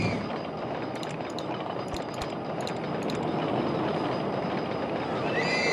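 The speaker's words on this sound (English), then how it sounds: "That is a tall reverser roller coaster." A tall reverser roller coaster train runs in RollerCoaster Tycoon, a steady mechanical rumble and rattle of wagons on track with faint ratcheting clicks and chimes, continuous and moderately loud with no talk.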